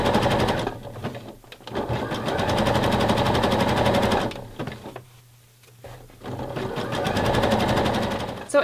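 A sewing machine runs steady bursts of rapid stitching through fold over elastic on a bra, pausing briefly mid-run before the motor whirs up again, close and loud with no talking.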